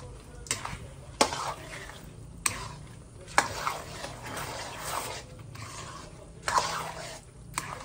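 A spoon scrapes and stirs a thick sticky rice mixture for suman in a pan over low heat, with irregular scraping strokes and sharp clinks against the pan over a soft sizzle.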